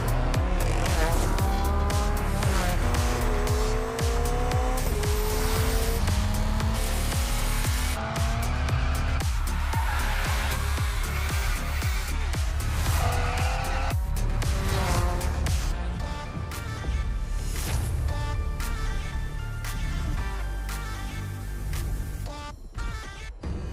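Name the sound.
BMW car driving in video game The Crew Motorfest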